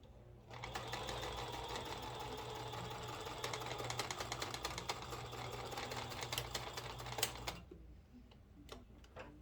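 Sewing machine running a long basting stitch on shirt fabric, a steady rapid mechanical chatter lasting about seven seconds before stopping, followed by a few light clicks.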